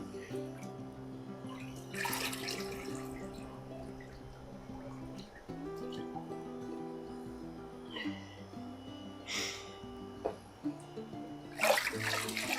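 Harvested whole chickens are lifted out of an ice water bath, giving occasional soft splashes and sloshing with dripping water in between, all fairly faint and close.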